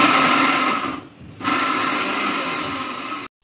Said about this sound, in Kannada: ಇದನ್ನೆಲ್ಲ ನಾನು ಚೆನ್ನಾಗಿ ಮಿಕ್ಸಿ ಮಾಡ್ಕೋಬೇಕು.